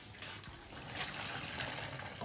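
Hot sauce poured into sterilized bottles, a soft continuous liquid pour and trickle, close and steady, with no talking.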